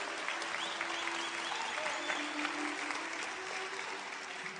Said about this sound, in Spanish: Den un aplauso al Señor Jesucristo